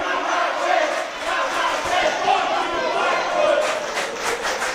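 Crowd noise at a West Coast Pro Wrestling show, a steady roar of massed voices and shouting sustained throughout with slight swells, loud and close.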